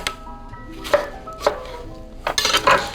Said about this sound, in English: slicing and getting some fruit in there. And we're going to take some more orange and do the same